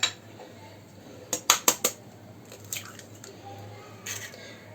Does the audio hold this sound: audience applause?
no